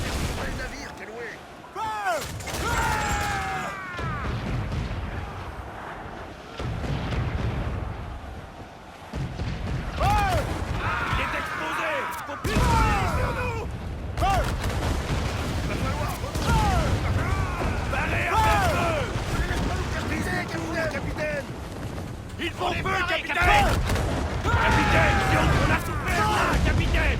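Ship cannons boom again and again in a naval battle in Assassin's Creed IV, loud blasts with rumbling tails coming in irregular volleys, while game characters shout in French between the shots.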